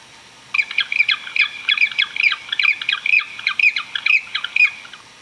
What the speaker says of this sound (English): Sound number one is the call of a real penguin.